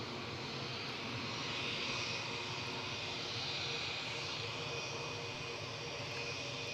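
A British Airways jet departs Newcastle Airport, its engines giving a faint, steady distant roar with a slight rising whine that holds throughout.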